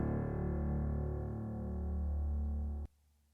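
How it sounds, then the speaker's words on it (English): Low, simple sustained piano chords play soloed in a music mix, a steady dark harmonic drone that holds for nearly three seconds before cutting off abruptly into near silence. "Let me solo the piano here."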